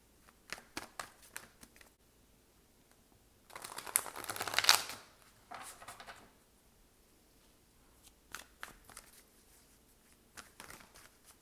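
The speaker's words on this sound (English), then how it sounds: "I'm going to give the cards a quick little shuffle here" Tarot cards are shuffled in several bursts of riffling and shuffling, one louder flurry in the middle, with quiet pauses between.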